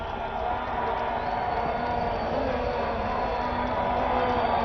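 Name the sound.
cricket crowd cheering at a half-century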